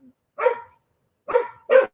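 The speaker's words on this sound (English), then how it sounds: "Oh, dogs are everywhere. There's dogs everywhere." Several dogs bark outdoors in three sharp, fairly loud bursts, two close together near the end, with short gaps of quiet between them.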